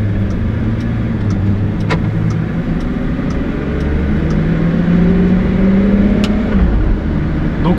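Pagani Huayra Codalunga supercar with 840 hp and a seven-speed robotised manual gearbox pulling away, heard from inside as a loud, steady low engine drone that swells slightly as it moves off.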